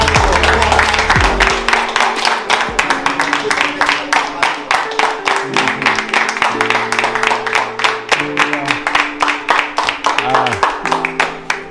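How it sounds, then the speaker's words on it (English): A small group at a gathering in Trenchtown claps in a steady, rhythmic round of applause that carries on throughout, close and fairly loud, with a few voices mixed in. "We'll give you a round of applause."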